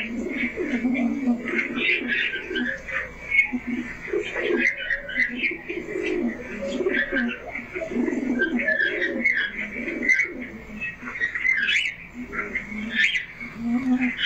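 Pigeons cooing in a bird loft, repeated soft throaty coos and murmurs from several birds close by, joined by scattered higher chirps and calls, with someone talking at times over the birds.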